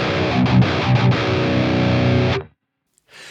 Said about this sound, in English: here's the same tone, but instead of the low cut, it's the Tube Screamer, which will add a bit of a mid bump and some distortion